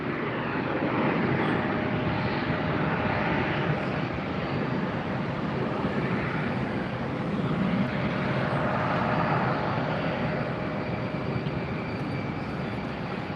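An airliner takes off from a Tampa Airport runway with a steady, loud, broadband engine roar that holds throughout, swelling slightly in the middle.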